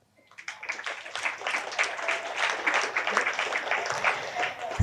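An audience bursts into loud, dense applause at a meditation talk, the clapping swelling quickly after a quiet start and holding steady and close for several seconds.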